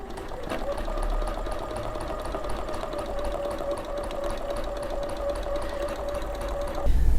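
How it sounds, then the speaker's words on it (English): A quilting sewing machine stitches steadily along a ruler, a fast even mechanical whir with a constant pitched hum, close and alone before a brief clunk at the end. "I'm going to stitch along the bottom of my door"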